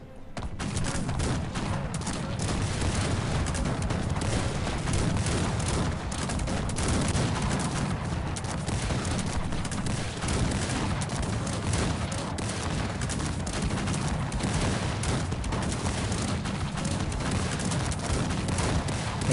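Cannon and massed musket fire from a real-time strategy battle in Cossacks 3 roar continuously at steady loudness, dense overlapping volleys and booms with no pauses or voices.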